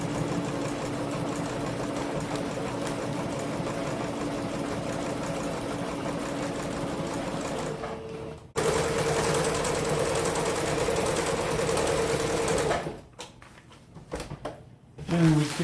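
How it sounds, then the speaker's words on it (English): Sewing machine running steadily while stitching a sleeve onto the body of a homemade fabric PPE gown, a continuous close mechanical hum that pauses briefly, then resumes before stopping with a few clicks. "now it's time to go ahead and sew it through"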